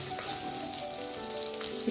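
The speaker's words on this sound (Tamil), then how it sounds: "வெங்காயம் வந்து நல்லா பொன்னிறமா வதங்கி வரணும்" Shallots fry golden in a clay pot with a continuous soft sizzle, faint and steady over a short stretch, with no talking.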